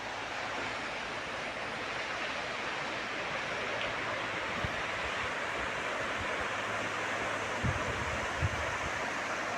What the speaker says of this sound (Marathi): लाटांची मजा.